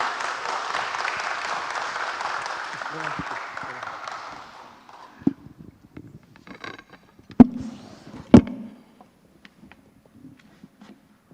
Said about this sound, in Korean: 희원 형제님께 큰 박수 부탁드립니다